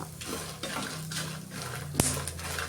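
Green chillies fry in a pan for a sambar, giving a quiet sizzle under soft stirring clatter, with one sharp metallic clink of a spoon against the pan near the end.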